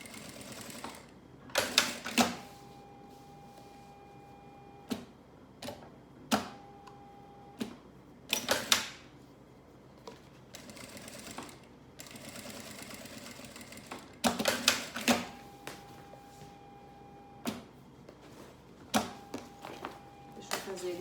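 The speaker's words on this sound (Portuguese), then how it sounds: "uma costurinha de segurança mais na beiradinha, pra gente fixar esse material do tecido principal com o tecido do" A sewing machine runs a security seam along the edge, joining lining to main fabric for a lab-coat holder, in several short bursts of fast stitching separated by pauses and handling clatter, close and moderately loud.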